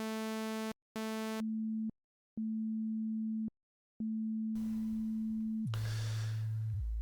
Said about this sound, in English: change the waveform to a sine wave